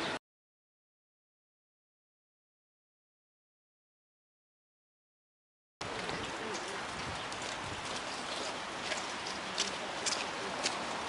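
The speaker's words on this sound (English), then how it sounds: "It's raining here." Steady rain falls outdoors near the Schöner Brunnen fountain, a dense, even hiss of drops that starts abruptly after a long stretch of silence and continues to the end.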